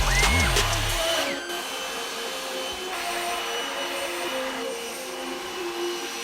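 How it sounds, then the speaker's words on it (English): An electric leaf blower roars steadily up close as it clears snow off a Jeep, a continuous rushing whine with a brief louder burst at the start. "I thought I would try the leaf blower and get the snow off the Jeep"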